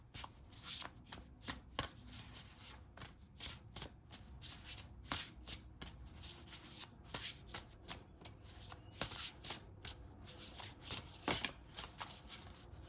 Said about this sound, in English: Let's draw some more cards.